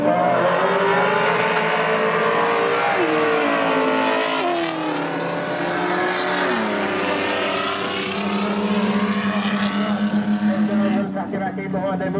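Race cars roar around a dirt track at Whyalla, engines loud and close, revving and shifting pitch as they race through the corners, with a continuous, layered drone throughout.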